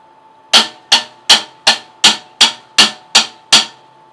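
Flam taps on a snare drum, each grace note leading into the first stroke of a double-stroke roll, played as nine crisp, evenly spaced accents at close range with no other sound.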